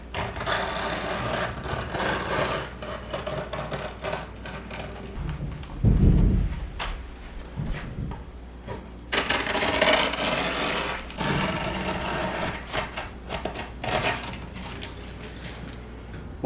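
Kitchen knife poked through and drawn along the skateboard deck edge to trim grip tape, close rough scraping and ripping with a sharp thump in the middle, under a steady background hum.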